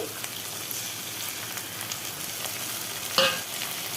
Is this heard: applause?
no